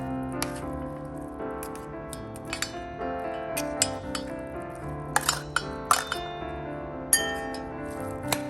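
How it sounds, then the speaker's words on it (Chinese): A utensil stirring canned tuna in a bowl for a lunchbox wrap, giving light scattered clinks against the dish over steady background music. "加入 tuna 搅拌均匀，"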